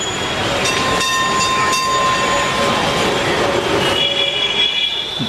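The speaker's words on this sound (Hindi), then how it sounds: "इधर ये ख्याल आया और उधर मुझे एक ट्राम दिखाई दी।" A tram in Belgachia rolls past up close, loud and steady for about five seconds, with rumbling rail noise, whining wheel squeal and clattering over the track and no voices.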